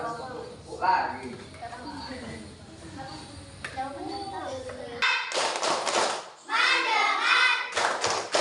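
A classroom of students clapping hands together in rhythmic bursts during an Indonesian school lesson, loud and close, following a stretch of a teacher talking.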